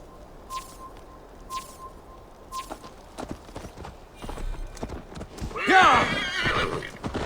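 A horse in the video game Assassin's Creed Valhalla gives a loud, rising whinny near the end, after a stretch of soft clip-clopping hooves and faint ambient tones.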